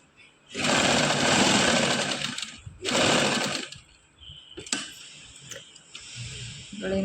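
Sewing machine running in two long bursts as it stitches a neckline, followed by shorter, softer runs and small clicks, close and fairly loud with no talking over it.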